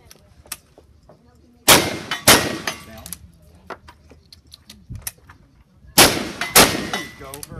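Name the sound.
pistol gunshots at a shooting competition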